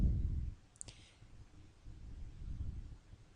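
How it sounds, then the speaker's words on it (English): A single sharp computer mouse click on a recipe web page, a brief isolated tick standing out over quiet low room noise. "and I click on that"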